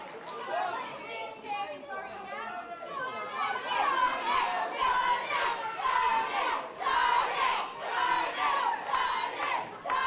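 A wrestling crowd at a singles match chants loudly in a repeated, rhythmic pattern, many voices together filling the space without a break.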